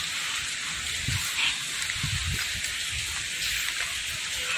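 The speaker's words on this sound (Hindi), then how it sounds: "ये रुकने का नाम नहीं ले रही बारिश" Steady rain falling outdoors during a downpour, a constant close hiss with a few faint low thumps beneath, no voices.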